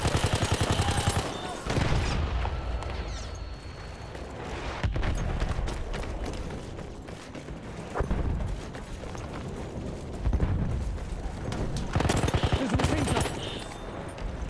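Rapid gunfire and explosions in the multiplayer video game Battlefield 1, dense bursts of automatic shots with louder blasts, loud and continuous with some talk underneath.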